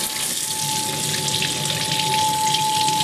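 Kitchen tap runs in a steady, continuous hiss of flowing water, close and even, with a faint constant tone beneath.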